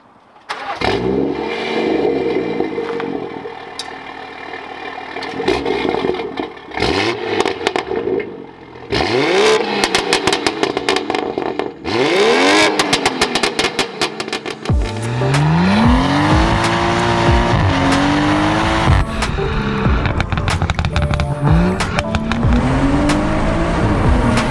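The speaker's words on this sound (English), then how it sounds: "it's pretty much time to hear how ridiculous this thing sounds, because not only has it got a full Rema system, it's got a decant downpipe as well." A BMW M140i Motech Edition with a full Remus exhaust system and downpipe revs hard, loud and close, its rising and falling sweeps growing into sustained high revs with crackling pops between blips.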